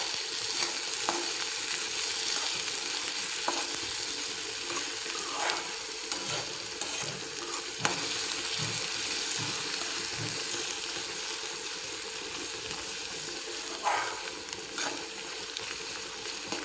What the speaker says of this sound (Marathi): छान तडका यात आपण टाकून घेणार आहोत कांदा आणि आपण याला आता परतून घेणार आहोत.